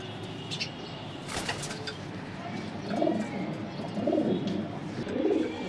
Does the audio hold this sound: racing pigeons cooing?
yes